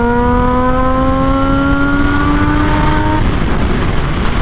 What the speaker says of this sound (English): I love the sound of these inline 3s. They sound incredible.